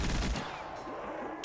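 Rapid automatic gunfire from a large-magazine weapon in Black Ops III Zombies, a dense burst of shots at the start that fades into a softer, continuing rattle of fire and in-game effects.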